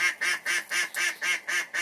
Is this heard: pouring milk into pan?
no